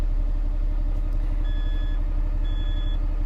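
A truck's diesel engine idles steadily with a low, even rumble, while intermittent high warning beeps sound over it and no one speaks.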